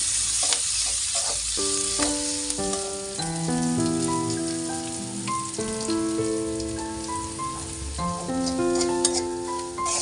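Chopped garlic fries in a wok for a spinach curry. A steady hissing sizzle runs underneath a melodic musical tune that dominates the foreground.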